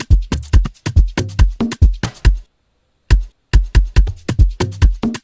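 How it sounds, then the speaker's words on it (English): An Afrobeats beat with a louder shaker loop plays a fast, punchy rhythm of repeated percussive hits. It stops for a short deliberate gap midway, then resumes, with no voices. "Now we can hear the shaker loop more because I increased the volume at this point."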